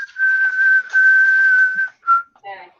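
A person whistles a tune alone: a long held note, a short break, another sustained tone, then a few brief warbling notes at the end, close and clear.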